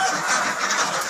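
A flock of 225 three-month-old ducklings being driven into their pen, giving off a dense, continuous chorus of overlapping honking calls at close range with no pauses.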